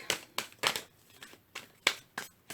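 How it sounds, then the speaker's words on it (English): An oracle card deck being shuffled by hand: a series of quiet, crisp riffling bursts in an uneven rhythm, close up, with no talking. "I'm going to do one more shuffle."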